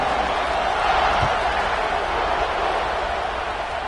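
A stadium crowd in a video game football match roars steadily as the teams line up for kickoff, a dense, unbroken wash of cheering noise.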